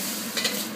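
Tomatoes sizzle and are stirred in a hot pan for a Thai tom yum stir-fry, a steady close hiss with faint scraping throughout.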